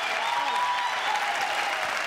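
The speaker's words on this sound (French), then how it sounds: "Mesdames, messieurs, applaudissements pour Gisèle Flavy qui est venue nous rejoindre" A studio audience on a French TV talk show applauds a guest's arrival, steady, even clapping at a consistent level for the full short span.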